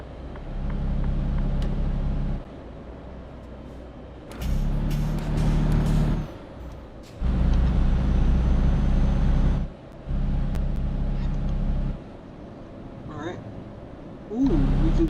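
A Mercedes truck in Euro Truck Simulator 2 runs with a low diesel engine drone that swells and drops in repeated stretches, with air-brake hisses, under someone talking.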